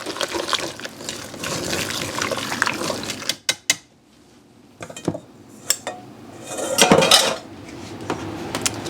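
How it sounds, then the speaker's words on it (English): A spoon stirs gluten-free chocolate chip muffin batter with coconut oil in a bowl, making close wet scraping and clinking against the bowl, broken by brief pauses and sharper knocks. "we're just going to mix until this is all combined"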